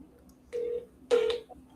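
Two short telephone dialing tones sound close and clear in a quiet room while a call is placed, followed by a faint click.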